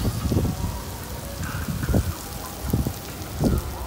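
Heavy rain falling at the close of winter in Saudi Arabia, a steady hiss of drops with low rumbling gusts that swell and fade in bursts.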